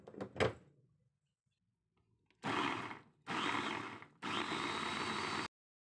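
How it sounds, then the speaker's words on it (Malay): A kitchen blender grinds chilli, onion, ginger and fresh turmeric with a little water. It runs in three loud bursts of motor whine and churning, each lasting about a second, with short pauses between them, after a few clicks from handling. "Ni nak kisar cili semua ya."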